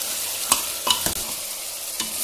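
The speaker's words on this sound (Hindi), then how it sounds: "मटन को भी अच्छे से फ्राई कर लेंगे" Mutton frying in a pan with a spoon stirred through it, giving a continuous hissing sizzle with a few distinct scraping strokes, close up and without speech.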